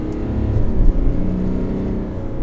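A GMC Denali pickup truck's V6 engine rumbles and revs steadily nearby, a low throaty drone swelling briefly before settling.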